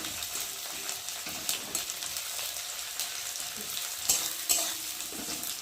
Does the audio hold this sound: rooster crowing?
no